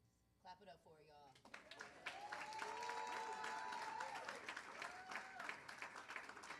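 After a brief voice, an audience at a live tour event in Detroit breaks into sustained applause and cheering, steady dense clapping with shouts rising over it at a moderate distance.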